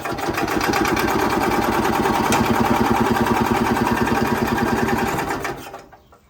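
A Robin two-stroke engine fitted to an Ez-Go golf cart runs with a fast, rhythmic, buzzing putter at close range, holding steady for several seconds before cutting out and fading to silence.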